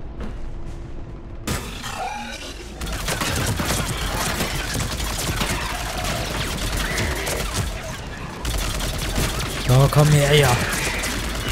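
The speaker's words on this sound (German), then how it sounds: "Javik hat ein bisschen eher geschossen" Gunfire from a firefight in the video game Mass Effect 3 rattles in bursts over a steady combat backdrop, loud and close, while someone talks in German over it.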